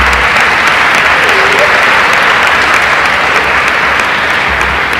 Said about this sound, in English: A round of applause for your election commission and all of our candidates tonight